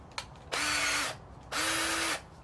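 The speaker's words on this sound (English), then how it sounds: "let me drill this hole" Two short bursts of a power drill boring a hole during a rear suspension rebuild on a 1979 Ford Zephyr Z7, each whirring run lasting about half a second, close and clear.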